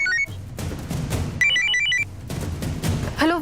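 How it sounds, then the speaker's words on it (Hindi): A telephone rings in a drama scene, a repeated electronic ringtone heard in bursts with short gaps between them. "कामिनी रानी का फोन है, उससे बात करो"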